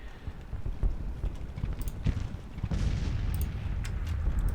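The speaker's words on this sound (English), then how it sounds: "So we're going to hit him with both units of cavalry here." Cavalry horses charging in the video game Grand Tactician Civil War, a rumbling clatter of many hooves with scattered distant gunfire booms, steady and moderately loud throughout.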